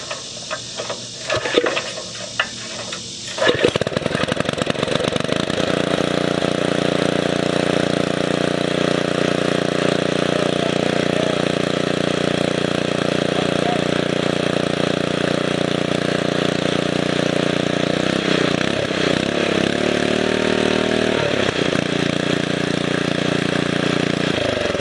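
Small motor on a motorized springer bicycle, after a brief rough start, settles into a loud steady run at close range, its idle rising and falling in an uneven surge later on, with no voices.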